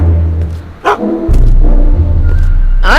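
Einstein the dog in the Back to the Future game barks and yips loudly up close, a few short sharp barks spread over a steady low rumble, with no talk.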